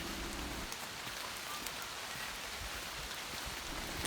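Heavy, prolonged summer rain pours steadily in the Carpathians near Yaremche, a dense hiss of drops hitting surfaces with occasional louder splats, no voices.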